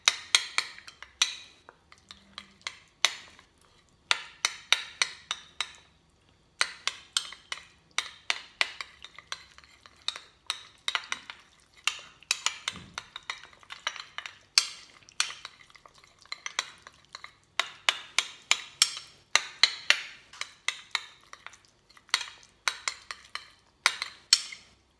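Oil, tomato paste and garlic being stirred into a paste in a kitchen, a utensil scraping and clinking steadily against the pot in quick repeated strokes, close and fairly loud, with no talking.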